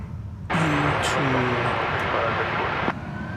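An American Airlines jet roars on takeoff from runway 18 left at DFW Airport, a loud broadband rumble that surges in abruptly, holds for a couple of seconds and then cuts off, with a radio voice speaking over it.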